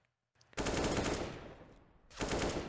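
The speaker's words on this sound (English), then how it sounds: "Have Stewie unleashed with his MAC-10." MAC-10 submachine gun firing in CS:GO, a long continuous full-auto burst starting abruptly after a brief near-silence, tapering slightly, then a second loud burst kicking in; close and dominant with no talking.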